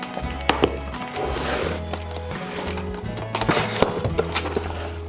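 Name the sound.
Viking axe chopping through wood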